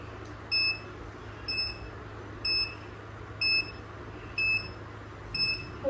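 An Urban Yog hair curler beeps in a regular pattern, six short high electronic chirps about a second apart, over a quiet room hum.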